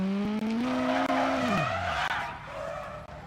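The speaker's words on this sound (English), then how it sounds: "Do a handbrake turn." A rally car in the WRC 9 racing game pulls a handbrake turn, its engine note dropping as the tires skid and squeal in a long, loud scrub. The engine drone stays up front throughout with no voices.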